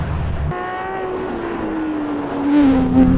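A car climbs the winding Col de la Madeleine mountain pass during the SavoieCup 2013, its engine holding a steady tonal drone that shifts pitch gradually and swells louder near the end.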